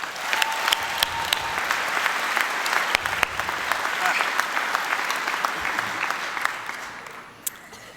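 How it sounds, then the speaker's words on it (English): Loud, steady applause from a large graduation crowd fills the whole stretch, with dense clapping that tapers slightly near the end. "So please, give them a big applause."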